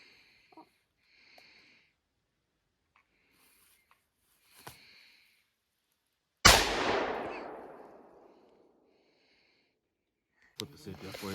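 A single loud, sharp gunshot from a rifle at an outdoor shooting range cracks out mid-clip and rings into a long fading echo, with faint breathing and small handling noises before it.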